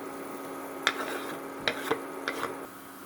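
Grated carrots and onion cook with mushrooms in a pan, a soft steady sizzle broken by three or four sharp clicks of a utensil stirring against the pan, close and moderately quiet, with no speech.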